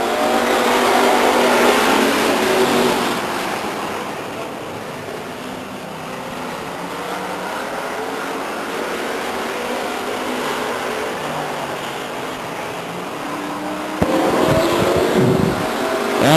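Race cars roar away together at Stockton 99 Speedway, a loud, sustained engine din that swells and dips as the pack passes, with a fresh surge of revving near the end.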